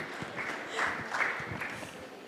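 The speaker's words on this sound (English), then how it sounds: "Round of applause for all of us." An audience at a Web 3.0 panel event applauds the panel. Moderate, steady clapping runs throughout at a middle distance with light room noise and no speech over it.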